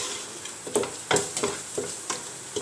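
Turmeric and crushed red chillies frying in a pan for kidney bean curry, a steady sizzle broken by several sharp scrapes and knocks of a spoon stirring, close and fairly loud, no talking.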